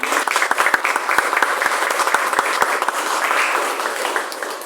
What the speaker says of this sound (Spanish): un aplauso para el compañero que no pudo venir.